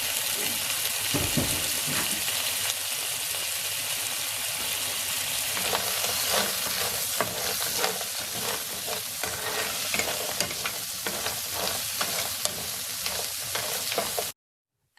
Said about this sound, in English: Add the garlic to a pan with hot oil. Add the shrimp and mussels.